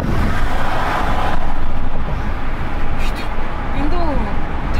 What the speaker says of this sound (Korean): 그럼 동일하게 시속 80km에서 윈도우도 내려볼게요.